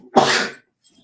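A single sharp human sneeze bursts out close by, then quickly fades to near silence, with no talking.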